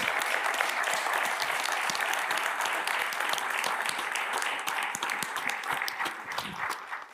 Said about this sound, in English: So a round of applause, please, for all three of them.